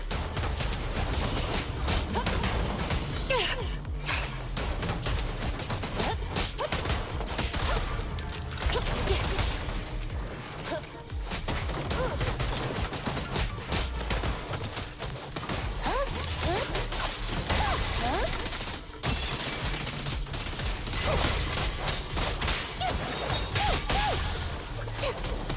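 Sustained video game gunfire roars in a dense, unbroken barrage of crashing shots and impacts that stays loud throughout.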